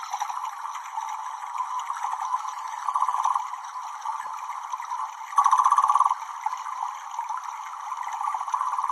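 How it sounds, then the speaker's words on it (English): A capybara making contented noises, a steady high chirping purr close to the listener, continuous with a couple of brief louder swells and no talk over it. "here's the sound of a capybara enjoying himself"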